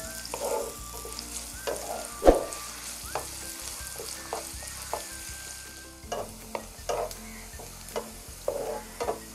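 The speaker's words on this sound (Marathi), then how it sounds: "कांदा लाल करून घेते।" Chopped onions fry for a Koli-style bitter gourd bhaji, a steady close sizzle broken by scraping stirs and light clicks of the spatula against the pan.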